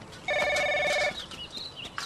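A telephone rings with one bright electronic trill lasting under a second, heard in an indoor scene from a TVB forensic drama, followed by quieter background sounds and a faint bird-like chirp.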